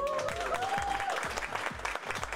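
Steady applause from an audience continues for a couple of seconds under a sustained musical tone, at a fairly even moderate loudness.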